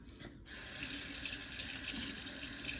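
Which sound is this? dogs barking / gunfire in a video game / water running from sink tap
water running from sink tap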